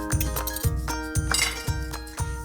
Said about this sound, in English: Just a quick whisk and it's ready.